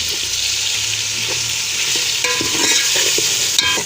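Spices go into aloo gosht frying in a pot, with a steady close sizzle and hiss and the scrape of a spoon stirring through it, and no voices.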